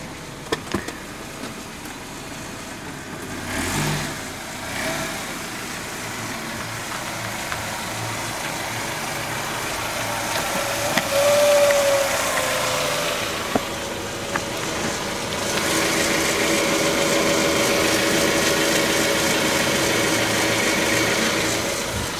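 A 2001 Suzuki Esteem car's engine idles steadily and close by, a continuous mid-low hum with a brief rev swell partway through and a rising hiss toward the end, no talking.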